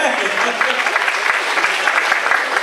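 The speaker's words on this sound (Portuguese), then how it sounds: "Eu quero pedir a da igreja que dê uma salva de palmas para esses jovens também" A church congregation claps in a steady, fairly close round of applause, with voices mixed in over the brief burst.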